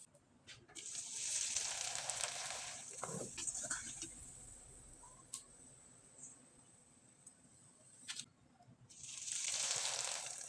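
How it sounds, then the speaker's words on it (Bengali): Rice flour pitha fry in hot oil, a soft bubbling sizzle that swells loudly at the start and again at the end, with faint kitchen clatter and a few clicks in between, fairly quiet overall. "এবার আমি কয়েকটা পিঠা আপনাদের তেলে ভেজে দেখিয়ে দিচ্ছি।"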